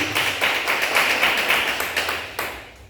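A church congregation at a missionary base in Prado, Bahia claps in unison, a quick regular rhythm of sharp claps close and loud throughout, without talk.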